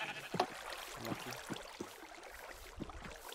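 Sheep in the video game Minecraft bleat several times in a row, fairly faint against a low background hum, with no talking.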